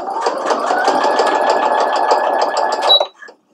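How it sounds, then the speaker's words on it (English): A sewing machine runs steadily, stitching a straight seam along a fabric belt, its motor whirring loud and close in a continuous rhythmic drone for about three seconds before stopping abruptly. "I'm going to make sure that I'm sewing a straight line."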